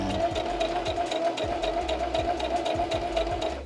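A sewing machine runs steadily at high speed while building puppets, its touchy foot pedal pressed down so the motor whirs with a fast, even mechanical hum and rapid needle clatter, close and loud without a break.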